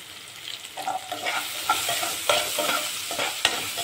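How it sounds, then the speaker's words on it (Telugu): Bright, crackling sizzle of ridge gourd and tomato frying in a pan with salt and turmeric, stirred in close, uneven scrapes and bursts without any voice. "వేసుకుని 1 నిమిషం ఫ్రై చేసుకోవాలండి."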